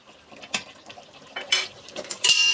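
A spoon stirs beef kala bhuna in a cooking pot, giving quiet, irregular clinks and scrapes of metal on metal, with a few sharper knocks toward the end.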